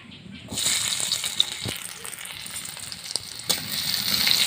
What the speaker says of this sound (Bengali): কড়াই আমি তেল দিয়ে দিয়েছি। এবার দিয়ে দেবো পেঁয়াজ কুচি।